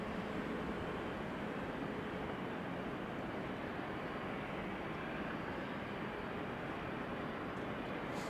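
A Saudia Cargo Boeing 747-400 freighter arriving at Amsterdam Schiphol gives a steady, distant jet roar that holds at an even, faint level throughout.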